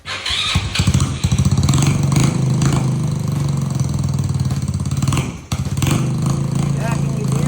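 A freshly repaired engine starts and runs with exhaust note from the tailpipe, a loud, steady chugging idle that briefly dips about two-thirds through before resuming, with a voice talking over it.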